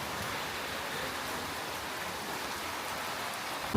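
Rain falls steadily as an even, moderate hiss, fairly close, with no voices.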